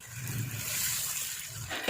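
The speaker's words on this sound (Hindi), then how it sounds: "तो अब इसमें हम यखनी डाल देंगे।" About two glasses of chicken yakhni broth are poured into a pot of boiling water for Punjabi chicken pulao, making a steady, soft splashing pour with no talking.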